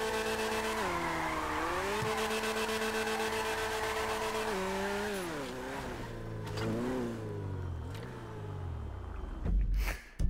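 Lowered sports car in GTA 5 revving and accelerating up close, a loud, steady engine note rising and shifting through gears before a burst of tire skidding at the end, with no talking.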